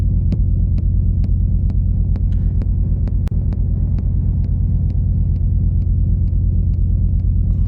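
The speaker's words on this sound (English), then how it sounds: "now I get rid of the kick and I just have this rumble" Kick rumble from an Elektron Analog Rytm drum machine in a techno jam: a loud, steady deep throbbing drone pulsing at an even rate, with soft clicky kick transients on each beat and one sharper click midway.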